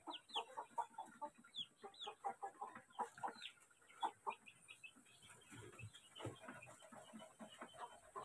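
A brood of ten Rhode Island brown chicks peeps constantly nearby, high thin cheeps overlapping in quick, irregular bursts, faint and without talking.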